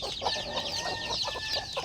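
Several chickens cluck continuously nearby, a busy overlapping chatter of short calls.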